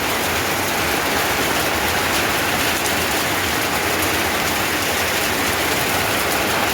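Heavy rain pours down during a sudden storm in Ethiopia, a dense, loud and unbroken hiss that fills the whole stretch close by, with no voices over it.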